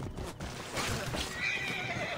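A horse whinnies over a low steady background rumble, in the video game Assassin's Creed Origins on PS4.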